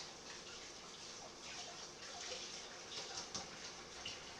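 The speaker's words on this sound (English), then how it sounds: "Let me rinse my hands off" Hands rinsing under a running kitchen tap, a steady close hiss of flowing water with faint splashes shifting as the hands move, with no talk.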